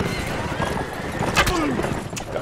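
Hooves of many mounted riders clip-clop at a gallop in the video game Mount and Blade, a busy rhythmic clatter with a brief whinny amid battle noise and a voice talking over it.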